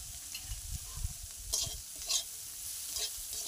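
Spices with turmeric and chilli powder frying in a pan, a low steady sizzle broken by several short scraping stirs, close and moderately quiet.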